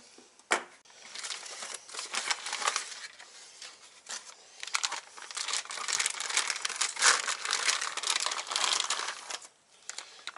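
Plastic packaging crinkles and tears as it is unwrapped from a Ross forged piston for an RB25DET engine build, close crackling rustles in bursts with quieter pauses, no speech.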